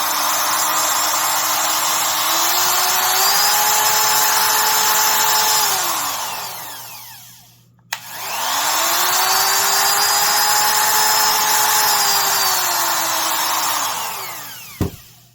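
A second-generation Ridgid R2401 trim router runs at a loud, high whine, spins down to a stop, then starts again, revs back up and runs steadily before a sharp click near the end.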